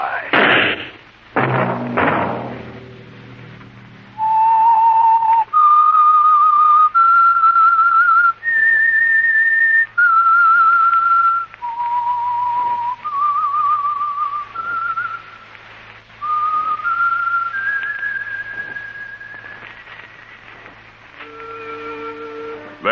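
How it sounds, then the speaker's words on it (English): A whistled theme tune for a classic mystery radio drama, a clear melody of sustained notes with short pauses, loud and alone after a brief burst of noise at the start, ending with a few chime-like tones. "Let that whistle be your signal"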